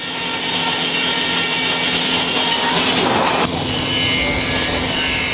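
Timber for shelters is cut at Agersfold Sawmill, producing a loud, continuous mechanical sawing roar with a dense, grinding texture and a brief dip near the end before it resumes.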